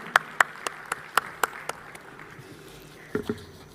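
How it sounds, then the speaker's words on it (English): Sparse, evenly spaced handclaps ring out one at a time at a National Space Day celebration, about seven sharp claps in a loose rhythm, then a short pause and two more near the end. "A huge round of applause as we welcome him."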